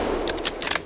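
A rifle shot fired during a bongo hunt in the Cameroon jungle, with a few sharp bursts under a broadband rush, close and fairly loud.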